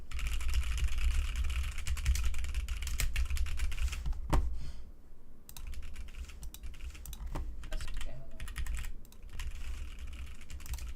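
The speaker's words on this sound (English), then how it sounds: "Alright, typing test." Typing on a computer keyboard during a typing test goes on steadily with rapid, close, hard key strikes over a low background hum, with a few short pauses.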